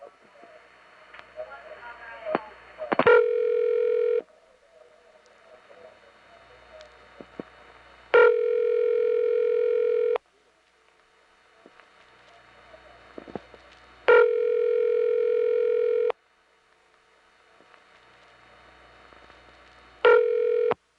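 A 1976 telephone line rings repeatedly with no answer, each long tonal ring burst separated by quiet gaps with faint line noise, four rings in all.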